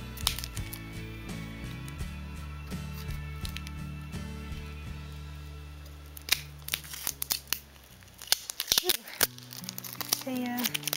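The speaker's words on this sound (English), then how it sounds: "let's tape on all sides" Tape is stretched and pressed onto every side of a package, giving crinkly rustling over a low steady hum. Sharp rips and tearing bursts grow denser toward the end.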